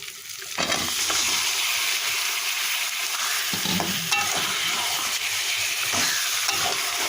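Chicken pieces going into a pan of cooked-down onion, garlic, ginger, turmeric, chili and salt paste, sizzling and hissing steadily while being stir-fried, with occasional scraping knocks of the spoon, loud and close with no talk.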